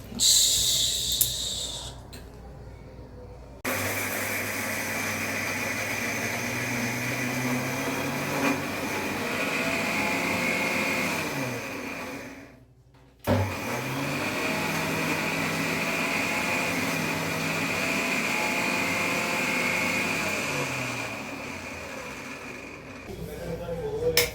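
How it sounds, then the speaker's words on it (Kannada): A kitchen mixer grinder (mixie) runs in long loud whirring bursts, stopping briefly mid-way before whining back up, its motor drone steady and close with a little clatter at the start and no talking. "ಈಗ ಇದು ಮಿಕ್ಸಿ ಮಾಡಬೇಕು."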